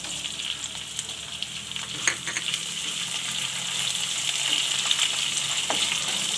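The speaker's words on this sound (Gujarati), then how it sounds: "ગાજરને આપણે ઘડીક વાર તેલમાં સડવા દેવું અને આપણે આ કોન નાખી દેવું" Carrots and corn fry in hot oil in a pan for corn upma, giving a steady, bright sizzle throughout. Occasional stirring clinks sound close by, and no one speaks.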